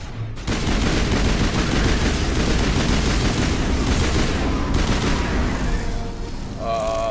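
Sustained gunfire in Mass Effect Legendary Edition, aimed at cybernetic husks: a dense, loud, continuous barrage of rapid shots lasting about six seconds, ending in a few fainter tonal beeps.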